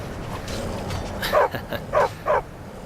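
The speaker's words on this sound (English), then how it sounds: "Stupid dog." A dog barks three or four times in short yips, fairly close and distinct, over a steady low background hum, with no talking.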